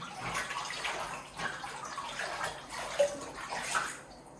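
Lukewarm water in a bathtub sloshes and swirls as a tablespoon of baking soda is stirred in by hand, giving a continuous soft splashing and gurgling close by, with no talking.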